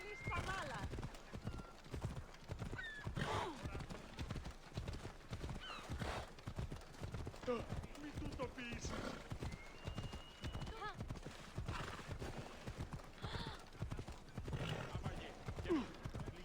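Clip-clop of a horse galloping in the video game Assassin's Creed Odyssey, a steady rapid hoof rhythm with occasional neighs, a voice talking over it throughout.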